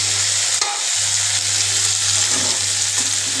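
Mixed vegetables and boiled jackfruit seeds frying in a pan; a continuous close sizzle with a low steady hum beneath and occasional soft stirring knocks, no voices.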